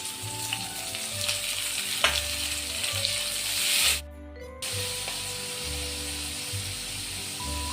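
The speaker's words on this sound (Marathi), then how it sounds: "बारीक कट केलेला लसूण हे आपण आता चांगलं फ्राय करून घेऊ" Finely chopped garlic, alongside chopped ginger, fries in a pan with a loud, steady close sizzle and hiss, broken by a brief drop-out and occasional stirring scrapes.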